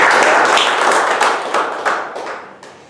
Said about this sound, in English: I would like everyone to give a wonderful round of applause.